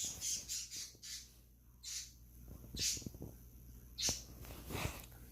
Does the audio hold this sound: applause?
no